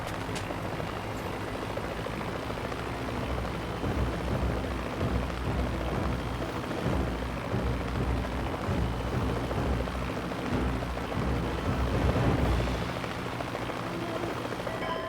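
A helicopter in the video game Mercenaries 2: World in Flames, a dense, steady rotor-and-engine roar that fills the scene continuously at constant loudness with no speech.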